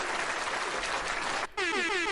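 A soundboard applause effect plays as a dense, loud burst of crowd clapping for about a second and a half, then cuts abruptly into a brief air-horn blast.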